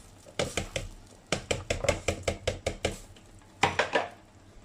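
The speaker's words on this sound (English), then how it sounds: "So I dump all the potatoes right now" Potatoes tumble into a hot pan in a series of sharp clattering knocks and scrapes against metal, in uneven bursts with short pauses, heard up close.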